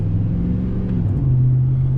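A single cab GMC Sierra with a 5.3 V8 idling loudly up close, its deep rumble shifting pitch as the revs change briefly, with no voices present.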